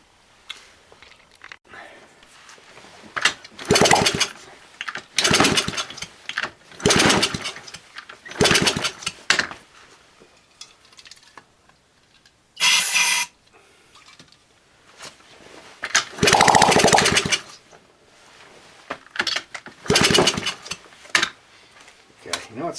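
A 1970 Honda Z50 motorcycle engine at raised idle, sputtering in repeated short bursts that catch, run a few seconds and die away, with a person talking quietly between the runs.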